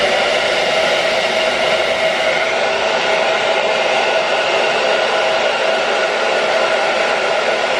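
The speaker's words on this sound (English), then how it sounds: "And then I'm gonna get my hairdryer" A hair dryer blows steadily and loudly on a freshly installed wig, a continuous even whoosh of air with no talking over it.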